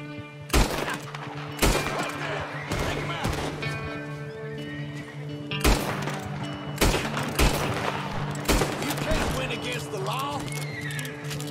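Several sharp gunshots crack out in Red Dead Redemption 2 gameplay, mixed with horse neighing and clip-clopping hooves while game voices talk underneath.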